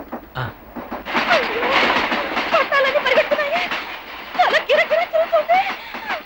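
A train rumbles steadily along the tracks, with voices talking and laughing loudly over the continuous rattle.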